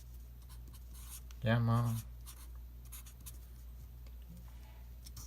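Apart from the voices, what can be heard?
writing, while deriving a physics equation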